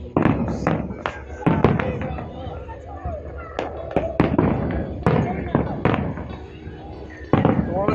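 New Year fireworks bursting over Park View City in Islamabad, a rapid run of sharp cracking bangs and booms at close range, with someone talking over the noise between the blasts.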